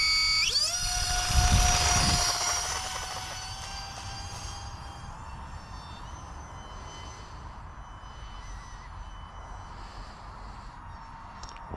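An E-flite UMX Thunderbolt II, a small electric RC model of the A-10 Warthog, takes off with a sharp, rising whine of its ducted fan motor that is loudest in the first few seconds, then settles into a steady, thinner tone as it moves away.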